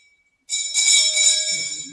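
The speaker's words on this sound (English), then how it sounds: "Come on, ring that bell." A hand bell rung at a heritage centre gives a bright, sustained metallic ringing that starts abruptly after a short silence and lingers, close and fairly loud.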